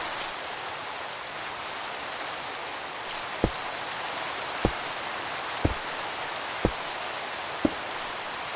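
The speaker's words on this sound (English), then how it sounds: "It's raining." Steady rain hisses across the whole span in Minecraft Skyblock, with a few sharp isolated clicks spaced about a second apart partway through and no voices.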